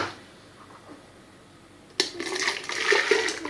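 Boiled hot water poured into a jug in a home kitchen while making strawberry jelly ice cream: quiet room tone, then a sudden splashing pour that continues and swells as the jug fills.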